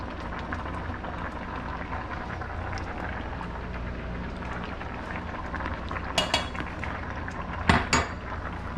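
Metal pasta server clinking against a pot of simmering fettuccine Alfredo, a few sharp clatters near the end over a steady low kitchen rumble and bubbling.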